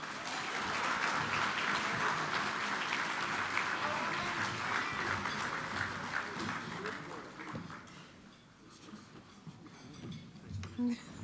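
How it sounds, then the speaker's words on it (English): A crowd applauding at a school awards evening, as a departing class is honoured: sustained clapping that fades toward the end, with some voices mixed in. "Huge round of applause."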